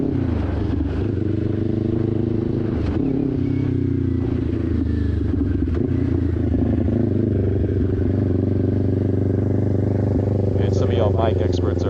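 A sport bike's engine drones steadily while riding at close range, with its pitch rising and falling through gear shifts over a constant wind-blown rumble and occasional clatter.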